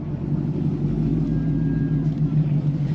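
A Porsche GT3 hums along on an early morning commute, its engine a steady low rumble heard from inside the car, with a voice talking at times over the drone.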